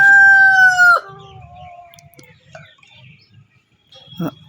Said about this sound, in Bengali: মুরগি তো ডাকতেছে এদিকে কারণ হচ্ছে সকাল সাড়ে পাঁচটা